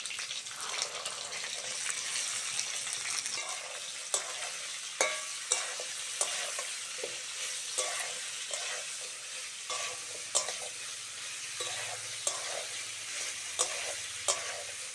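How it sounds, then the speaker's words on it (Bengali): Cauliflower frying with green chili, tomato and peas, a steady close sizzle with repeated clinks and scrapes of a spoon stirring the pan, no speech. "এইবার দেবো কাঁচা লঙ্কা, টমেটো আর মটরশুঁটি।"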